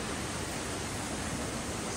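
Continuous roar of a waterfall at an Australian outdoor attraction, a constant broadband wash of falling water, close and steady with no breaks or voices.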